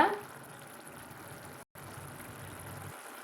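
Water bubbles and simmers in a pan with a steady, rushing hiss, continuous throughout with a brief dropout midway.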